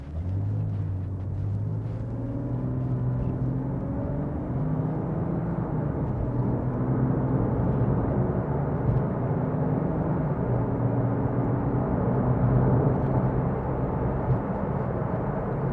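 2006 Porsche 911 engine accelerating while driving, a continuous low rumble with rising tones heard from inside the car, steady and moderately loud with no talking.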